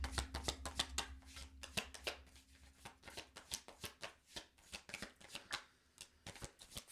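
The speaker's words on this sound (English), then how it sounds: "So I'm going to shuffle one more time" Tarot cards shuffled in quick, steady riffling bursts, close and crisp, with a low hum underneath and no talking.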